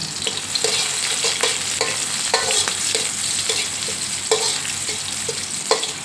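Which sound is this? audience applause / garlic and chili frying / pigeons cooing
garlic and chili frying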